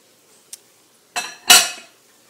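Pork pieces dropped back into a cast iron pan for a citrus stir fry, giving a light tap and then two bright clattering metallic knocks in quick succession, close and clear in a quiet kitchen.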